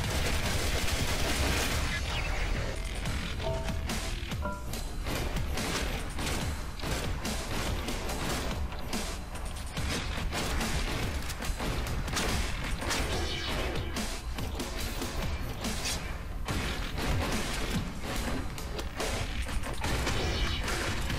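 Rapid gunfire and crashing weapon effects from the Nexuiz first-person shooter game, including sniper rifle shots, play continuously and loudly for the whole stretch with no talking over them.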